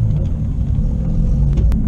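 A C5 Corvette running on a drag strip gives a loud, steady, low engine rumble as it accelerates hard, heard from inside or close by, with no talking.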